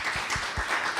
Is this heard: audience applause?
yes